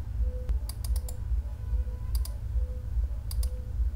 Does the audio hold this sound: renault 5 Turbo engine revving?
no